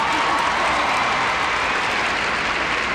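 An arena crowd at a professional figure skating championship applauds the scores, a dense, steady roar of clapping and voices that stays loud and unbroken throughout.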